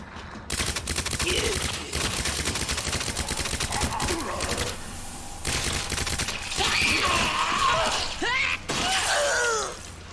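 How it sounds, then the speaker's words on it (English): Gunfire in the Resident Evil 2 Remake video game, rapid volleys of shots filling a room, loud and continuous with a short gap, mixed with game effects and groans. "I am filling this room with bullets to no effect."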